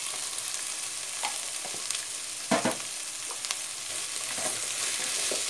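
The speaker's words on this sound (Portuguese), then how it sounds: "Vou dar uma refogadinha aqui." Green and yellow bell peppers sautéing in a pan, a steady close sizzle with a few sharp stirring scrapes and clicks scattered throughout.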